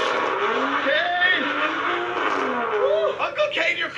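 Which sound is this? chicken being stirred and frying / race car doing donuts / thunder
race car doing donuts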